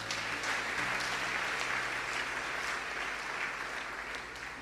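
A church congregation applauds in steady, dense clapping that fills the space for several seconds, loud and continuous with a slight fade at the end, with no talk over it.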